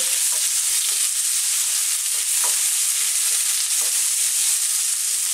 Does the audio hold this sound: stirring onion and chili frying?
yes